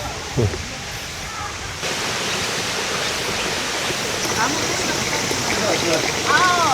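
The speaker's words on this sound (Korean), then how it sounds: "계곡의 물소리가 들리고." A mountain valley stream in Kagoshima, swollen after heavy rain, rushes loudly in a steady, broad roar close by, with a voice speaking briefly over the water.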